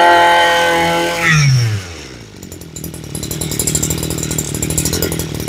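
A small grass cutter engine runs loud and close, revving high, then dropping and sputtering as it winds down before settling into a rough, steady idle.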